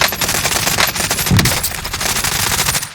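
Rapid automatic gunfire in Warzone Pacific: a loud, dense stream of shots rattles continuously through the whole moment, close and dominant, with no talking over it.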